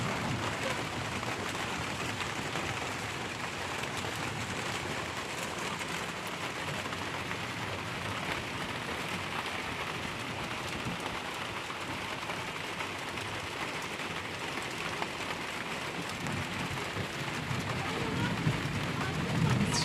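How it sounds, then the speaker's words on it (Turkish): Steady, dense rain hisses continuously throughout, with a low rumble underneath and no clear pauses. "Yağmur başladı. Fırtına geliyor gibi."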